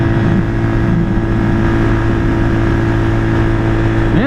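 A 1978 Kawasaki KL250 motorcycle with a newly installed carburetor drones loud and steady while being ridden at high revs, a constant buzzing engine note with no pauses.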